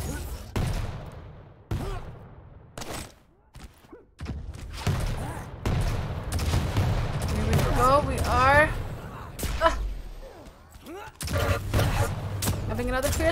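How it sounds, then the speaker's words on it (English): Railgun shots and frag sounds in a fast Quake duel match, sharp bursts scattered among in-game effects while a commentator talks over the action. "The rails out of St0n3 are amazing."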